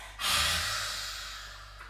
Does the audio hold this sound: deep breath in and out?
yes